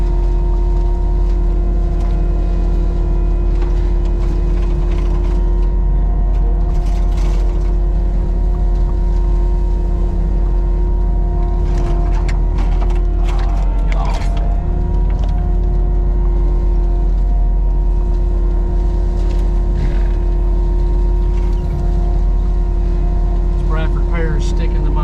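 A mulching machine grinds through an old dump area littered with garbage, its heavy engine droning loud and steady throughout with scattered crunching bursts, while someone speaks intermittently over the noise.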